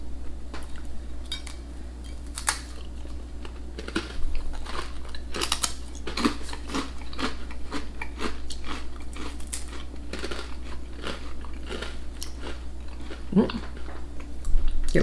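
Crunchy UK cracker or oatcake being bitten and chewed close to the mic, a series of sharp irregular crunches over a quiet steady hum.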